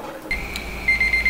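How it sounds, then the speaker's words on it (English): An oven timer alarm beeps at the end of an hour-long bake while a cast iron skillet is being seasoned, sounding as a steady electronic tone followed by a run of short repeated beeps, clear and close with no talk. "That's our alarm that the hour is up"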